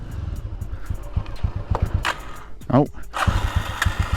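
A 1987 Honda GB250 Clubman single-cylinder motorcycle engine idling and revving nearby with a steady low pulsing, while someone talks over it.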